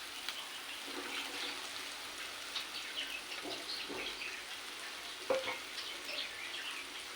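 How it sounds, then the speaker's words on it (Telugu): Taro root pieces frying in a pan with a constant soft crackling sizzle, punctuated by intermittent stirring scrapes and light clatters, fairly quiet and close. "ఫ్రై అయిపోయినాయి ఇప్పుడు చామదుంపలు కూడా వేసుకోండి"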